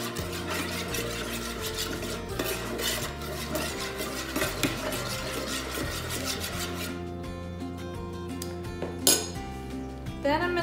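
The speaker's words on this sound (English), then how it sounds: "I'm just going to give that a stir" A utensil stirs a warming muscle rub mixture in a bowl, giving quiet repeated scraping and clinking against the bowl, soft and close, with a few sharper taps near the end.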